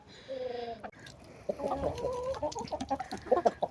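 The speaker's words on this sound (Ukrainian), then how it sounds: "Півник мій сірий, здоровий, красивий." A rooster clucks nearby in short, uneven bursts, growing busier toward the end, over faint outdoor background noise.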